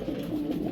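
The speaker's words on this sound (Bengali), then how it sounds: "কতটা অ্যাক্টিভ কবুতরটা দেখেন" A large pigeon giving a brief soft low coo, faint and close, with no talking.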